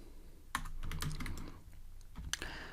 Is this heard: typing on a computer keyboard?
yes